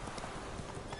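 Hooves of Roach, a horse in the Witcher 3 video game, clip-clop briefly and faintly, a quick run of soft steps.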